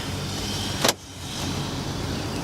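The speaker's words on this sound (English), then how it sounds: "We are going for a test drive." 2015 Honda Accord driving on a test drive, with a steady cabin engine and road rumble throughout and one brief sharp click just before the one-second mark.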